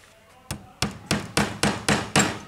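A hammer taps a 40 mm nail into a small model house bearer with seven sharp knocks. After one opening strike the blows come in a steady, quickening rhythm, close and clear with no talk.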